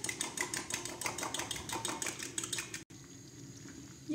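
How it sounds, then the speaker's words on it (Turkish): A whisk beating the sauce ingredients for Turkish sour meatball soup in a pot, rapid rhythmic metallic clinking for nearly three seconds before it cuts off and leaves a quieter hiss. "çapalım ile çırpıyorum."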